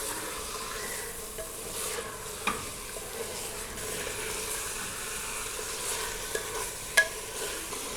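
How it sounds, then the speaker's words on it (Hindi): Chicken and onions fry in oil for Desi-style chicken jalfrezi, a steady close sizzle and hiss with occasional light stirring clicks and pops, with no voices. "चिकन डालने के बाद हम इसको प्याज के साथ ऑयल में फ्राई कर लेंगे।"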